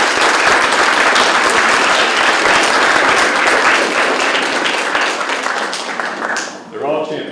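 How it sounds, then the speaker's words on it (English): Full audience applause rings out at a spelling bee for two contestants, dense and loud for several seconds, then thins as a voice begins speaking near the end. "How about a round of applause for these two?"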